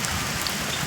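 Heavy rain pours steadily around a flooded home area in Bangladesh, a dense, even hiss of drops close by, constant and unbroken through the short moment with no voices.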